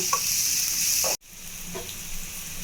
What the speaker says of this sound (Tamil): இந்த எண்ணெயிலேயே நம்ம எல்லா வெஜிடபிள்ஸும் நல்லா வதக்கிடலாங்க.